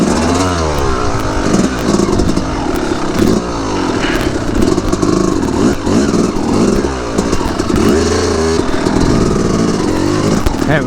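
A dirt bike engine revs hard and steadily while being ridden, loud and close throughout, with rising and falling pitch as the throttle opens and eases off.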